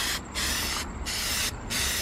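Spray paint hissing onto a custom Rocket Bunny car splitter in three loud, close bursts separated by brief pauses, with no talking.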